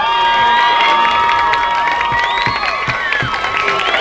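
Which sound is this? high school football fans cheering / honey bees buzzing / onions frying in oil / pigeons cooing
high school football fans cheering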